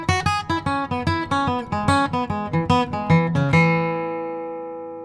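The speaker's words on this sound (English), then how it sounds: "And then if you add emphasis or add inflection to every fourth note, it could sound like this." Jazz guitar lick in E, a quick run of plucked interval notes with every fourth note accented, rolling in a steady rhythm for about three and a half seconds before a final chord rings out and fades, close and clear with no talking.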